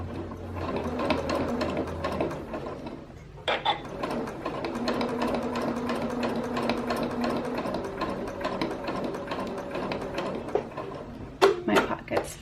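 A sewing machine stitches close to the folded edge of a pocket on knit fabric for a box top, running in steady bursts with a brief pause, a nearby rhythmic mechanical hum punctuated by a few sharp clicks near the end.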